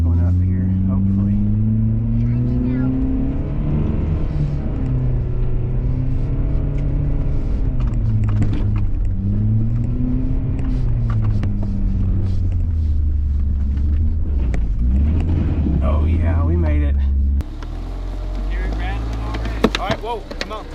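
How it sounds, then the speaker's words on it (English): A car engine labours and revs as it is given gas climbing uphill after a crash, a loud steady low drone with shifting pitch throughout, voices talking over it, changing character near the end. "I'm gonna give it some gas going up here"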